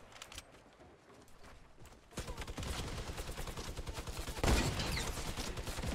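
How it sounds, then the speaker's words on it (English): Rapid minigun fire in the Fortnite video game: a dense, continuous stream of close, loud shots begins about two seconds in and runs without a break to the end, growing heavier toward the finish. "Oh! Okay, minigun. The minigun."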